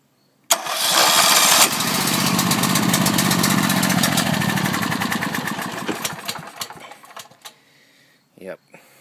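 An electric-started tri-fuel generator engine fires up on natural gas, roaring loudly and steadily up close, then sputters and fades as the mixture runs lean, with a brief clatter at the end.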